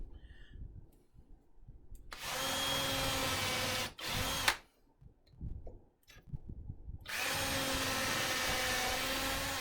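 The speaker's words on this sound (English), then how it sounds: "let's drill 2 pins right into here" A power drill boring pin holes in wood whines in two sustained bursts separated by a short pause and some quiet handling, fairly close and loud.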